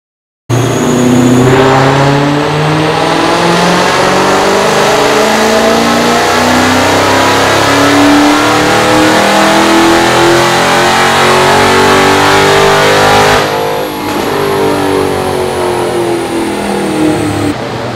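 A Dodge Challenger Hellcat fitted with a JLT intake roars through a sustained full-throttle pull on a dyno, its engine note climbing steadily for about thirteen seconds before easing off, loud and close with no talking.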